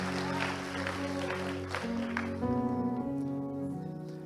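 Applause from a church congregation during an evening worship service, a steady patter of clapping mixed with sustained music that keeps playing throughout.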